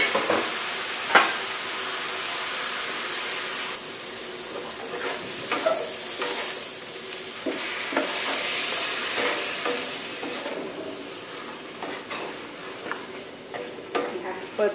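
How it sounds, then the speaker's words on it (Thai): Pork and pork stomach stir-fry over high heat in a pan, giving a loud, continuous sizzle with repeated scraping strokes and clatter from a spatula, close by. "เปิดไฟแห้งๆค่ะผัดให้หอมค่ะ"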